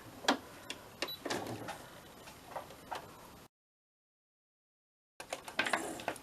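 A sewing machine stitching through paper runs in short bursts, its needle ticking and whirring quietly and close, with a brief silent gap before it starts again.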